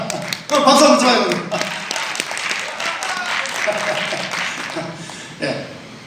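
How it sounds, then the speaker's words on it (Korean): Lecture attendees at a talk on the Gyeongju Choi family spirit clap in a loose, uneven burst, scattered hand claps and taps mixed with a speaking voice and some shuffling. "그럼 박수 한번 쳐봐요."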